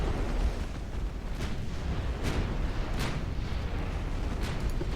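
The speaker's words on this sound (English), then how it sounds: "that was a DD that tried to launch torpedoes, and the torpedo detonated aboard" In a naval warfare game set in a 1900 British campaign, a torpedo detonates aboard a destroyer, a dense roaring rumble with several sharp blasts and booms breaking through at intervals.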